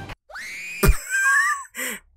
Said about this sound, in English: Where did you even get that scream?